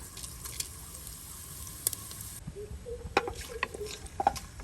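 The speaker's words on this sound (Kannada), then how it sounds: "ಸ್ವಲ್ಪ ಹೊತ್ತಿದನ್ನ ಫ್ರೈ ಮಾಡುವ" Whole spices sizzle softly in oil in a pressure cooker: black pepper, cloves, bay leaves, star anise and cumin. A faint steady fry is broken by scattered small pops and crackles.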